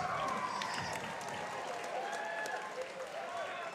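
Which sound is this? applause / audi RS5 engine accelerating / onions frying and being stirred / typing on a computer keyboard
applause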